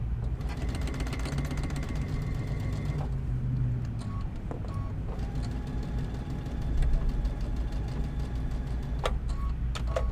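Sewing machine stitching quilted placemats, with a steady close mechanical hum and rapid needle ticking that pauses near the third second and then resumes in short bursts.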